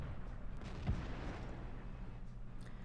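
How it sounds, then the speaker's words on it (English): A heavy tank's main gun fires in World of Tanks, a single sharp, deep boom near the start followed by a low rumbling tail and faint background battle noise. "Smack a shot for 532 damage, right into the AT-15's commander's hatch"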